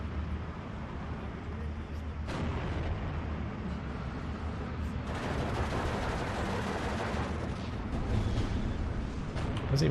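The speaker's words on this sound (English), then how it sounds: "And that artillery is oppressive." Artillery fire in the WWII strategy game Steel Division 2, a continuous dense rumble of distant shelling and battlefield noise with sharper bursts breaking through, steady and loud throughout, no talk.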